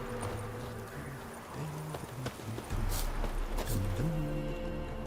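Roach the horse's hooves clip-clop in a steady walking rhythm in The Witcher 3, fairly close, with a low musical drone underneath.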